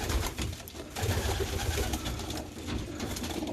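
Pigeons cooing in a bird loft set up for pigeon tossing, a steady mass of soft low coos from many birds close by, continuous and fairly loud throughout with no talk.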